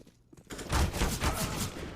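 A submachine gun in a Counter-Strike match fires a rapid burst of shots that starts after a brief quiet moment, crackling steadily for over a second amid game noise.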